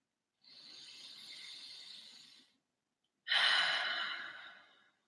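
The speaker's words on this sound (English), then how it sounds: "just take a slow breath in and out, relax." A slow, deliberate breath during a guided meditation: a long, soft exhale-like rush of air, a pause of silence, then a louder, fuller breath that fades out, with no talking.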